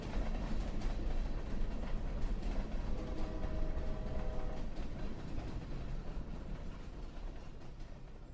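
A train rolling along rails as a radio drama sound effect, a steady broadband rumble with faint tonal hum, continuous and fairly quiet throughout with no talk.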